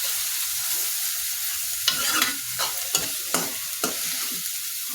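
Bottle gourd greens stir-frying in a pan: steady loud sizzle throughout, with repeated scraping strokes of a spatula stirring at irregular intervals, no voices.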